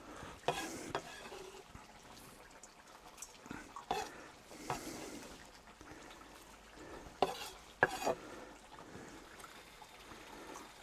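Beef oxtails stew in a kazan over a campfire: a low, steady bubbling sizzle broken by occasional scraping stirs and sharp clinks of a utensil against the pot.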